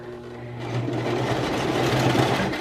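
A sewing machine runs steadily at close range for free motion quilting, its fast needle hum continuous and even while fabric is guided by hand beneath the quilting foot, with no talking.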